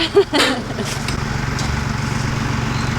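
A tractor engine runs at a steady, loud drone in a hop garden, close by, after a brief voice at the start.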